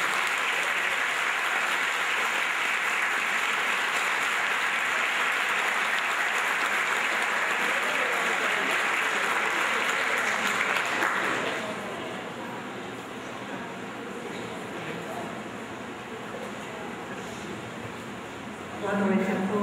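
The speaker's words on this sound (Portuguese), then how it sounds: "Uma salva de palmas, por favor." Sustained audience applause at an evening lecture in Jaú, Brazil, honoring a Holocaust survivor in 2008, loud and steady for about eleven seconds before fading into scattered clapping and crowd murmur.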